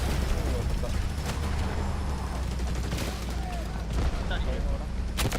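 An artillery barrage in the game Delta Force rumbles continuously, with heavy booms and scattered gunfire cracking through a dense, low roar while muffled voices talk underneath.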